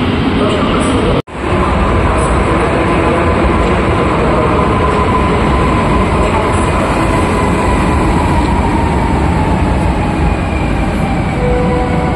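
A train arriving at a station in Poland rumbles steadily and loudly nearby with a broad rolling roar and faint high squeals, continuing for the whole stretch.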